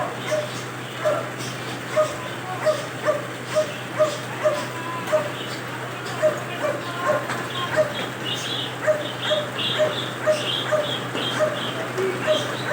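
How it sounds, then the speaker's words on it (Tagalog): Dogs bark repeatedly at a distance in an irregular rhythm in a flooded village during a typhoon, with a steady low hum in the background and faint voices. "Daming aso pa dun"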